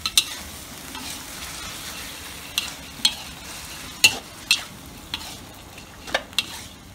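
Pork neck and oyster sauce are stir-fried in a hot pan as part of a spicy Thai stir-fry. A low sizzle runs under repeated sharp clacks of the spatula against the pan, coming at an irregular rhythm.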